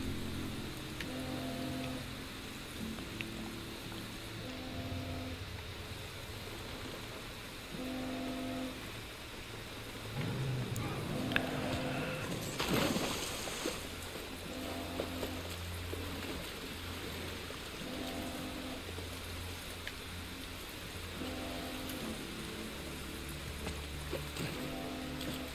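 Steady, even rain hiss runs through the whole stretch in The Last of Us Part 1 PS5 remake, under sustained low musical tones, with a brief louder swell near the middle.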